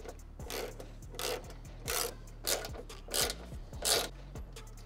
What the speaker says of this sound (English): you're gonna start by removing these bolts on the grill. You're gonna need a 10 millimeter socket to do that